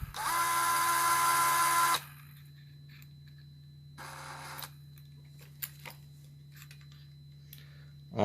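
A small DeWalt drill drives a metric drill-and-tap combination bit: a loud, high whining run of about two seconds, a pause, then a shorter, quieter spin with light clicks and handling noise.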